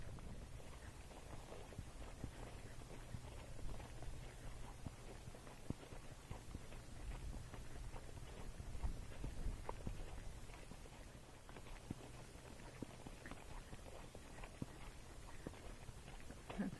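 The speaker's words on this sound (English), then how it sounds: "That's our Neigh's running walk now." Faint, steady hoofbeats of a Tennessee Walking Horse in a running walk gait, moving at an even, quick pace, with soft rhythmic thuds and low background noise.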